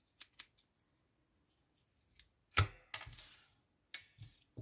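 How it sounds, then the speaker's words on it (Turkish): Scissors snip through crochet yarn at the end of a mini amigurumi keychain, a few quiet, separate crisp cuts and clicks with pauses of silence between them, close to the microphone. "ipimi kesiyorum."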